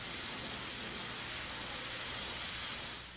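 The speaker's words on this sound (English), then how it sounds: "The artist sprays a special grit out of a nozzle at high pressure." A high-pressure nozzle sprays grit onto granite while sandblasting a stencilled design, giving a continuous, dense roaring hiss that holds steady throughout and fades slightly at the end, with no voices.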